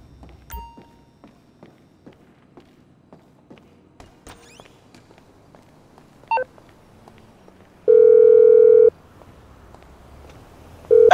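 In Grand Theft Auto V, a phone call tone sounds as a single steady electronic beep of about one second near the end. It follows a stretch of faint clicks and soft thumps and is cut off by another tone at the very end.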